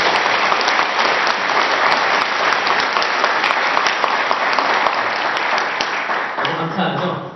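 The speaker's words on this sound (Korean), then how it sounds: "감사의 박수를 한번 올려드립니다." A church congregation applauds loudly and steadily, a dense, close wash of many hands clapping that fades slightly at the end as a voice begins to speak.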